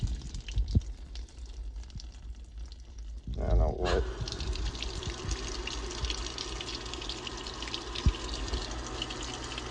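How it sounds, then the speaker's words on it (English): A washing machine on a towels and sheets cycle flushes water through its pod dispenser, a rushing flow that surges in partway and then continues steadily; a person talks briefly over it. "now there it goes, flushing out the pod dispenser"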